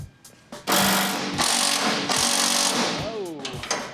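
Loud bursts from a power impact tool break loose the bed bolts on an OBS Chevy truck, several rattling runs of about a second each, close up in a garage, with short pauses and faint voices between them.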